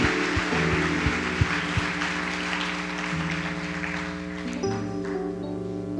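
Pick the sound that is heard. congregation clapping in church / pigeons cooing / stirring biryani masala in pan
congregation clapping in church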